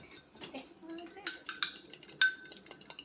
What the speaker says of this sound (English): Just going to whisk.